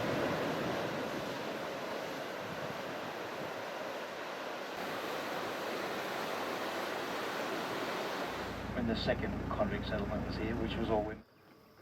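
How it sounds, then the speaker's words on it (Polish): Heavy surf roars continuously on a coral reef off Norfolk Island, a dense wash of breaking waves, then the noise shifts near the end and a voice briefly speaks over it before cutting off. "Wielkie fale przyboju rozbijają się tutaj z hukiem o miejscową rafę koralową."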